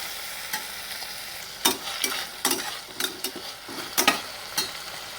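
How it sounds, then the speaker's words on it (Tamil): Tomatoes and green chillies fry in a pan under a soft, steady sizzle, while a spatula scrapes and knocks against the pan in irregular strokes, with no talk. "தக்காளி நல்லா குழையட்டும், அது வரைக்கும் நல்லா கிளறலாம்."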